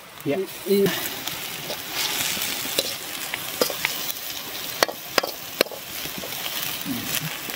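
Curry leaves sizzle and crackle in hot oil while being stirred in a pan during outdoor cooking in a forest, with sharp pops and steady frying noise close by as people talk.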